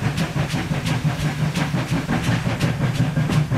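A Castle class steam locomotive chuffs along in a Roblox railway game, giving a steady rapid beat of exhaust beats and rail clatter over a low rumble, loud and close with no voices.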